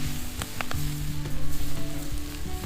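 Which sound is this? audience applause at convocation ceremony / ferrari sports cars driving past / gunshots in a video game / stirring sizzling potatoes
stirring sizzling potatoes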